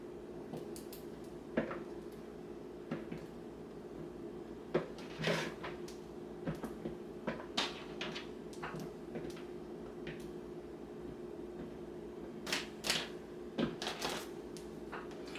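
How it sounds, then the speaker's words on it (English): A knife cuts homemade bread into cubes for bread pudding, giving quiet, irregular slicing clicks and taps scattered across the stretch over a steady low kitchen hum, with no talking. "We're just cutting it in, trying to cut it in cubes, y'all."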